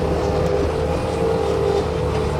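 2005 Bobcat S250 rubber-tire skid steer loader with a Kubota V3300 diesel engine running steadily, a loud continuous close engine drone with a constant hum and no pauses.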